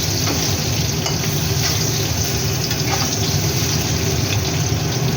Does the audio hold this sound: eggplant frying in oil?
yes